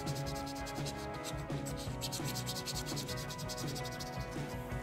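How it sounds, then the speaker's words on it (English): A blade lightly scraping a hard water calcium stain on a granite countertop, producing a steady, close, rhythmic rasping with repeated short strokes, quiet and alone. "Like a little light scrape is all you need to do."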